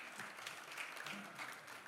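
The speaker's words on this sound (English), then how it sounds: "let's clap for Nigeria" Audience applause at a talk on elections and democracy in Nigeria, a steady wash of clapping from a crowd that sustains evenly throughout without any speech over it.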